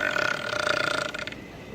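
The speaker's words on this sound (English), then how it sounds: "that's the belch." A person lets out one long, loud, rumbling belch lasting over a second, close up with a fluttering, pulsing texture, then it trails off into quiet.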